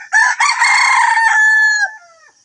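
A rooster crows once, loud and close, a long strained call that trails off, with no clucking evident around it.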